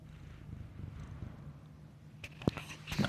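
A cat purrs softly and steadily at close range, a quiet low rumble that lasts throughout, and a few light knocks and rustles come near the end.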